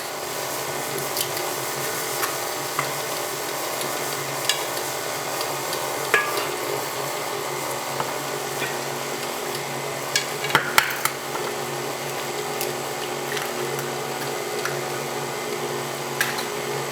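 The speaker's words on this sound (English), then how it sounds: "So let's turn this on low, and I'm gonna add in 3 eggs. Let them mix a little bit in between each addition." An electric mixer runs steadily on low speed, blending eggs into cake batter for an apple cake, a continuous even whir with a few faint clicks and knocks, close and moderately loud, with no talking.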